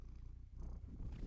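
A domestic cat purrs close by, a continuous low rumbling vibration with a steady pulsing rhythm and no talking over it.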